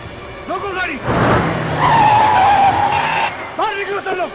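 A car in a Bollywood action movie skids with a long, loud tire squeal that holds for a couple of seconds, with dramatic voices shouting before and after.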